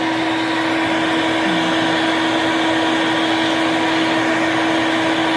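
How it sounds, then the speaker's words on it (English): A shop vacuum pulls scroll saw sawdust from beneath the saw, a loud, steady whining roar with a constant pitched hum that runs unbroken throughout, with no voices. "I'll turn the vacuum off."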